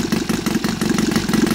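A Saito FA270T twin-cylinder four-stroke model airplane engine, converted to run on gas with CH ignitions, runs up close with a loud, throbbing, steady lumpy beat.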